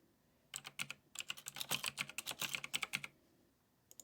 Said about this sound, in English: type your title or whatever you want your text to be